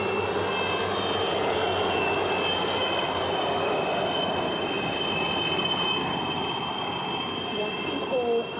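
Four helicopters roar overhead in a synchronized aerial salute at Mauritius National Day celebrations, a loud, continuous wash of engine and rotor noise that holds steady throughout.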